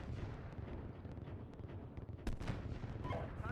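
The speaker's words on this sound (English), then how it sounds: "there's artillery also landing on that enemy infantry I just engaged" Artillery and a mortar strike land on enemy infantry in the tank simulator Steel Beasts Pro. A deep, continuous rumble of impacts rolls on, with one sharp, loud blast standing out midway.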